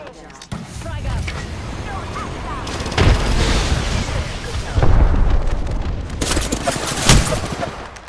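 In the Apex Legends video game, a thrown fire grenade lands among bursts of gunfire, and several sharp, loud blasts punctuate a busy, noisy battle.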